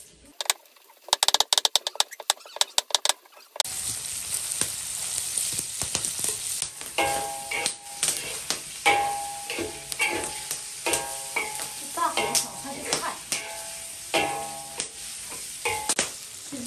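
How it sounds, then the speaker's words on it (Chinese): Salted pork from a farm-raised pig being stirred in a wok, with rhythmic scraping and clattering strokes over a continuous loud sizzle, preceded by a few sharp knocks. "放点盐巴，搅拌均匀"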